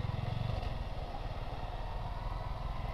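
A Yamaha R15 V3 motorcycle engine roars steadily and loudly up close while riding on a hot midday road, a continuous throaty drone with some clattering texture and no talk.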